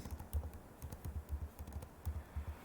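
Someone types on a computer keyboard, a quick irregular run of close, soft key clacks with short gaps between them, no talking.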